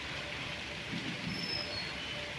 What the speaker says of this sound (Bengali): এখন অল্প অল্প করে বৃষ্টি শুরু হয়েছে